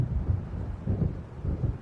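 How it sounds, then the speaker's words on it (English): Thunder from an approaching storm in the video game Alan Wake rolls in as a deep, distant rumble, swelling in several low waves with no voices. "It seems there's a storm coming."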